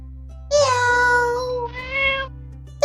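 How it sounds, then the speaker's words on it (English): A cat meows twice in clear, drawn-out cries, the first long and wavering, the second shorter, heard up close with no talk over it. "Meow, meow, meow, meow."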